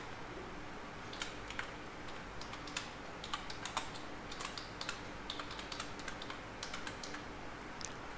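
Typing on a computer keyboard: irregular bursts of light, quick key clicks, close and fairly soft, over a faint steady background hum with no talking.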